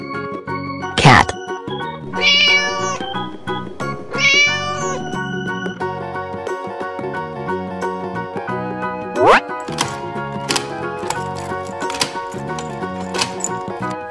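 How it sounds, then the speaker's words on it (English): A cat meows over a steady musical backing with chimes and tones, the meow rising and falling once early and again later. "Cat."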